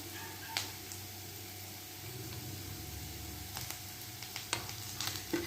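Onions, curry leaves and ginger garlic paste sautéing in a pan, a soft steady sizzle with occasional sharper clicks of stirring toward the end.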